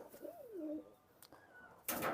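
Pigeons coo with a soft, close, rising and falling warble, then a short second call follows, and a louder broadband rustle comes in at the end. No one speaks.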